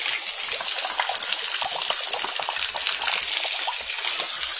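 Rainwater pours steadily into a bucket during a storm, a loud, continuous close splashing gush with no voices.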